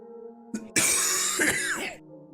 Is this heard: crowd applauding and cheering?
no